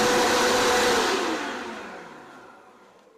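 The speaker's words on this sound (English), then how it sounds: "I've got our electric leaf blower." An electric Worx leaf blower pushes air through a dryer vent hose to clear lint, a loud steady rushing whoosh that gradually winds down and fades over a few seconds, with no voices.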